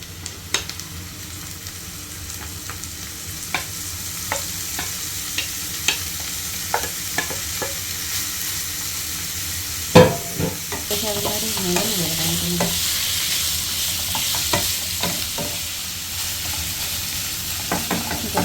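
Sujuk sausage fries with onions in a pan: a steady, close sizzle broken by repeated scraping stirs of a utensil, with no talking.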